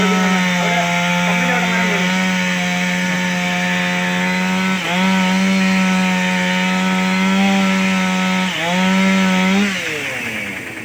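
A fire force crew's chainsaw cutting wood after rain in Kerala, loud and close, holding a strong steady whine with two brief dips as the blade bites, running alone.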